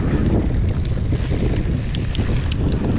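Loud, close wind buffets the microphone on a mountain bike trail, a constant rushing roar through the whole moment with no speech.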